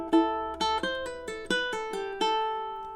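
Plucked ukulele notes in a quick melodic run, each attack followed by softer pull-off tones, clear and close with no voices.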